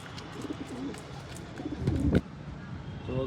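Pigeons cooing on a rooftop terrace, soft low throaty coos repeating close by with a louder burst near the middle, over faint background noise and no talking.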